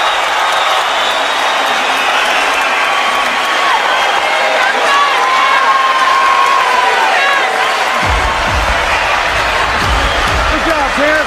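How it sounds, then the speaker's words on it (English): Boxing arena crowd at a Terence Crawford versus Raymundo Beltran fight roars and cheers steadily for the whole stretch, a dense, loud wall of voices with a brief lift near the end. "Crawford brings the crowd out of their seats"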